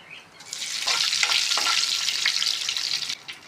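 Curry leaves hit hot oil with tempering spices for an egg bun curry, bursting into a loud, dense sizzle that holds steady for a few seconds before easing off, close up with no talking.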